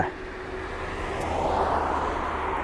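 A cargo jet taxiing at East Midlands Airport gives a steady, broad engine roar with a faint whine, holding level and swelling slightly over a few seconds, with no talk.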